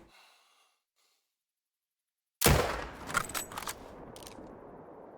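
A .375 Magnum rifle fires once in the hunting video game Call of the Wild, loud and sharp after a near-silent pause. The blast trails into a rumbling, echoing decay with a few smaller crackles.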